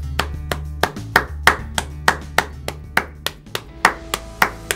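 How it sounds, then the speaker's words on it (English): Rhythmic hand claps, about a dozen sharp evenly spaced strikes, over sustained low tones at the end of a piano lesson on a song. "Give yourselves a round of applause."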